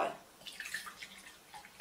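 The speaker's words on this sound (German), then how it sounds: "Zuerst füllen wir das Glas mit Wasser." Water poured into a glass, filling it to the brim: a faint trickling and splashing with gurgling, bright watery tones rising and fading, no voices over it.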